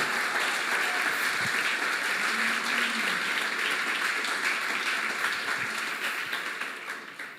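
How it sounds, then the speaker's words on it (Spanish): Sustained applause from a crowd, a dense wash of clapping that continues steadily and begins to fade toward the end. "Vamos, aplaude al Señor."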